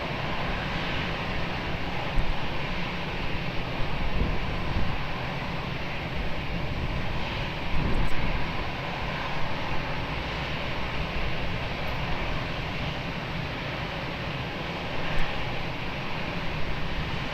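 Aircraft engines at Lisbon Airport, a continuous broad roar from a distant jet with slight swells in loudness, no voices.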